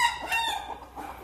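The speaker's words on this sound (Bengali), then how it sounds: "এই দেখেন এই মুরগিটা দেখাই," Domestic hen clucking close by in short, uneven bursts, part of a flock of laying chickens, with no voices over it.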